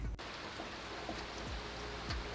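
Soft, continuous rain falling in Hawaii, a faint even hiss of drops on surfaces with a few scattered louder drips, no voices present.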